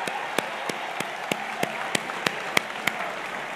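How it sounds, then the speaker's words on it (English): Audience applause at a political event, a continuous bed of crowd clapping punctuated by a few sharp, regularly spaced louder claps from someone nearby. "a round of applause would be very much appreciated"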